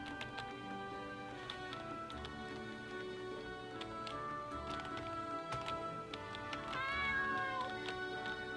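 A cat character in a video game meows repeatedly over continuous layered game music, with a longer drawn-out meow near the end; no talking.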